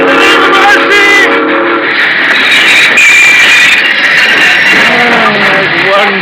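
Train sound effect from a 1951 Inner Sanctum radio drama, a loud rushing rail roar with sustained whistle tones blaring over it, building and continuing throughout without speech.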